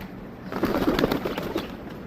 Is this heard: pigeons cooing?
yes